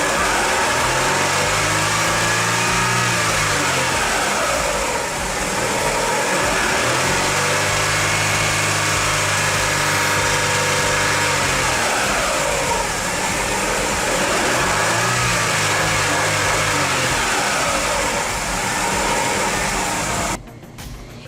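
A car engine runs loud and close at idle during a fuel pressure test, rising into several smooth revs that swell and fall back, then cuts off abruptly at the end.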